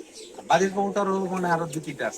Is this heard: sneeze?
no